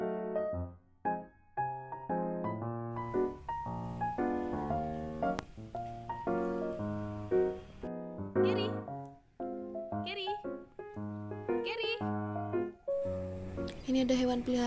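A pet house cat meows again and again at close range on a semi-outdoor home terrace, giving drawn-out, varied cries in quick succession while people talk nearby.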